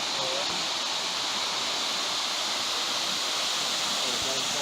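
Véu da Noiva waterfall beside a mountain trail on the Petrópolis to Teresópolis traverse, a steady broadband rush of falling water, constant and fairly loud with no breaks.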